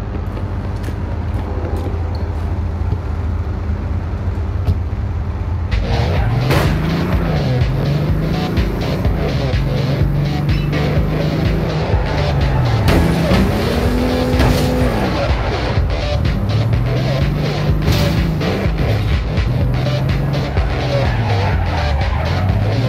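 A car drives through a city in the video game APB, a steady engine drone that begins to rise and fall in repeated revving swells about a third of the way in, loud and close.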